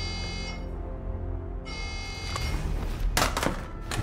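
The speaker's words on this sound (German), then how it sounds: "Alarm." Alarm in the video game Call of Duty: Black Ops 6, a steady harmonic buzzing tone that cuts out briefly and resumes, joined by loud thuds and game noise near the end.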